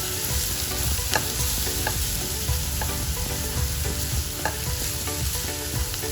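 Turmeric and masala fry on a low gas flame for restaurant-style palak paneer, giving a dense, continuous sizzle with repeated scraping and clinking of a spoon stirring the pan.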